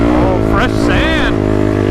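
Honda TRX ATV engine idling and revving with a freshly fitted exhaust, a steady loud drone with one rising rev swell near the middle, close to the microphone with faint voices underneath.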